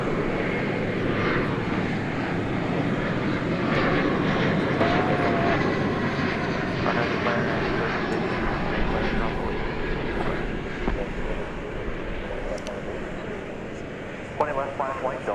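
Delta airliner jet engines at DFW Airport, a sustained loud rumbling roar that carries throughout with some clicks and clatter, while a person speaks over it.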